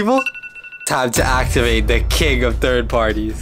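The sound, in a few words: alarm sound in the video game Blox Fruits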